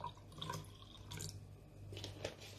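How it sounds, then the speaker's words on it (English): A bitter kola, garlic and ginger mixture poured into a cup, a soft continuous trickle and splash of liquid, close and steady for a couple of seconds. "Then you pour in some into the cup."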